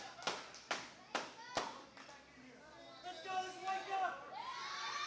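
Wrestling event crowd at ProSouth claps in four sharp rhythmic beats, evenly spaced and distinct, then fades into murmuring chatter and voices of the audience.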